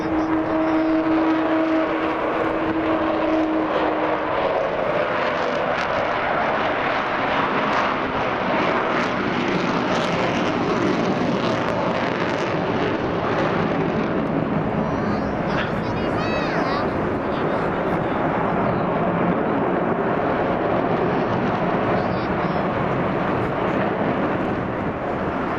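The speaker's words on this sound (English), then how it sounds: "It's worth coming today just to hear that noise, isn't that roar of the engines?" Avro Vulcan bomber XH558 at the Clacton Air Show, a continuous deep, broad jet engine roar sustained throughout, fairly distant and steady, with crowd voices talking over it.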